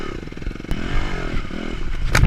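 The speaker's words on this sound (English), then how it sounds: "The bike didn't stall again. It's a 4-stroke laying sideways. And it's not stalling." A 4-stroke dirt bike lies on its side with the engine still running after a crash in a high-school motocross race in Denver, idling with a steady low pulsing plus scrapes and clatter, growing louder near the end.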